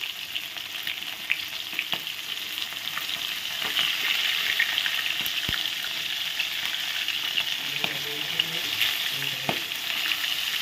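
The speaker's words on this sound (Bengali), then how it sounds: "এগুলো ভাজা হচ্ছে, এখন আরেক পাশ আমি উল্টে দেবো।" Pieces of bhola fish cut from a large 5 kg fish frying in oil, a steady, close hiss with intermittent crackles and soft utensil knocks as pieces are turned; no speech.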